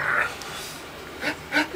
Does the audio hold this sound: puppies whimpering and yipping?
yes